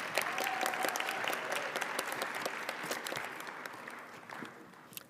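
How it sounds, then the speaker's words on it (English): Audience applause for volunteers at an entomology quiz-bowl final round, a steady wash of many hands clapping that slowly fades out, fairly quiet overall. "I just want an extra round of applause for our amazing volunteers."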